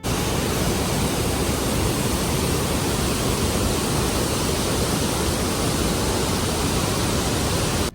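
Niagara Falls roaring as a dense, unbroken wall of rushing water, loud and close, steady for the whole stretch with no voices.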